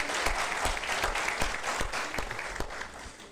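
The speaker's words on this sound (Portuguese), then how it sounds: "Gente, palmas para esse coral." Audience clapping for a church choir at a monthly thanksgiving service in Vila da Penha, Rio de Janeiro, dense and sustained throughout, with sharp individual claps standing out from the crowd.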